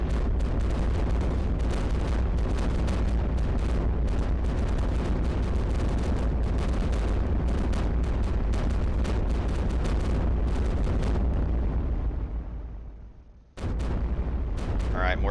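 Defensive weapons in the iBomber Defense strategy game fire on ships in an Eastern Mediterranean level, a loud, dense barrage of rapid booms and blasts that rolls on continuously, briefly cuts out near the end, then resumes.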